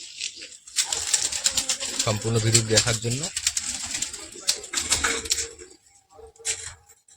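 Pigeons in a loft coo in throaty, rolling bursts near the microphone, with wing flutters and clattering movement, while someone talks over them for much of the clip.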